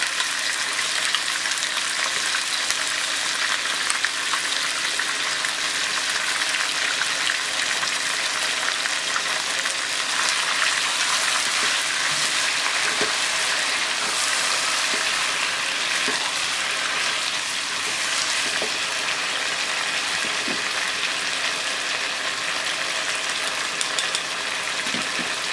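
Chili sauce frying with chicken in a hot pan, giving a continuous dense sizzle and bubbling with faint utensil clicks, no voices.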